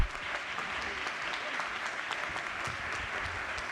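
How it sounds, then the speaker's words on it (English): Members in the Maryland House of Delegates chamber give a warm round of applause, even continuous clapping from many hands in a large room, fairly distant and unbroken throughout. "Please join me in giving her a warm round of applause."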